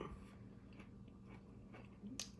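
Crisp bites into a Butch's frozen pizza crust give a few soft crunching and chewing sounds, quiet and close, with no talking.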